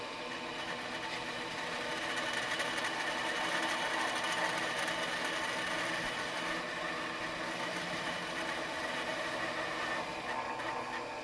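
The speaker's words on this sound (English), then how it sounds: "now we use our calipers to follow the parting tool" A wood lathe spins a baluster while a parting tool cuts into it, giving a steady, even hum and whir of moderate loudness that runs unbroken and unchanging from start to finish.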